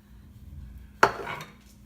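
A single sharp clink of a utensil against a bowl while macaroni salad with mayo and mustard is mixed, close and brief, followed by a short fading scrape.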